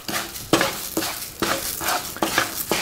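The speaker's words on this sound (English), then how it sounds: "just saute this up in the butter." Jasmine rice and orzo pasta stirred in melted butter in a pan, with a steady sizzle and repeated scraping strokes of a utensil about every half second, close and moderately loud.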